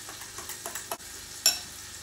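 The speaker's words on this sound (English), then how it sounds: "I'm just gonna scramble the eggs and the cheese together" Eggs and cheese are scrambled together for spaghetti carbonara, with soft scraping and stirring strokes against a pan, a few light taps and a sharper clink near the end, fairly close and quiet.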